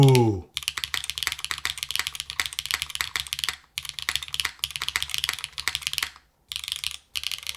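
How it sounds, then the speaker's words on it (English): Rapid, close typing on an OF-1 mechanical keyboard makes a dense, steady clatter of keystrokes in several runs separated by brief pauses. "Let's plug it in, make sure it all works, and we will type away."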